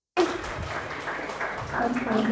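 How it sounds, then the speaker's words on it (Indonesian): A small audience at an Indonesian discussion event breaks into applause for a participant, a sudden burst of steady clapping that swells slightly near the end. "Tepuk tangan untuk Loli"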